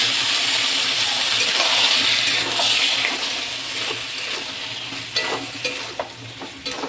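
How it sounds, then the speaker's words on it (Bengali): Boiled peas and chickpeas go into a hot pan of mutton fat, setting off a loud, close sizzle that slowly fades, followed by a few scraping and stirring clinks near the end. "এবার সিদ্ধ করে রাখা মটর আর ছোলাটা আমি দিয়ে দেবো।"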